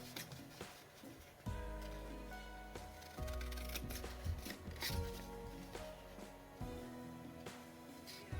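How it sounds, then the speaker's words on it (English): Quiet crisp snips and paper rustles repeat at an uneven pace, close by, with a few soft thumps in between. "definitely helps to have long blade scissors for this."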